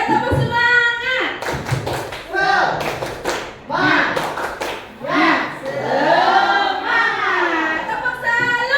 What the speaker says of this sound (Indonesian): Tepuk semangat dulu deh, tepuk semangat.